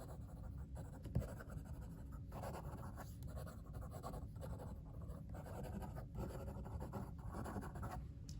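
Brown Pelikan M200 fountain pen writing quickly on paper, producing soft rhythmic scratching strokes in short bursts with brief pauses, close and quiet.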